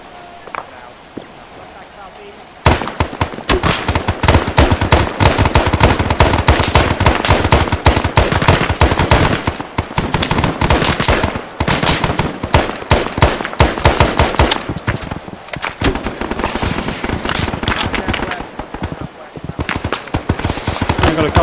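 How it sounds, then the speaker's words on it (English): Dense, rapid bursts of automatic gunfire in the Arma 3 military shooter at night, a continuous loud rattle of many weapons firing almost without pause for about twenty seconds, with speech mixed in. "Shots!"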